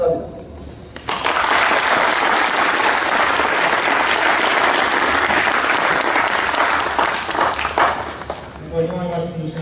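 A large audience at a 2014 company New Year opening ceremony bursts into loud, sustained applause for the chairman, a dense wash of clapping that starts abruptly and fades near the end as a voice comes in.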